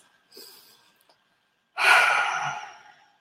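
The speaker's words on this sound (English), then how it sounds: "just take a couple of deep breaths" Two breaths during a guided chakra grounding session: a soft, brief inhale-like rustle early on, then a long, louder exhale lasting over a second, heard alone without talk.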